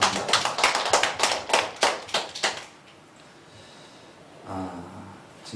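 A church congregation claps together in a burst of rhythmic applause for about two and a half seconds, then falls to quiet room tone and a brief low murmur.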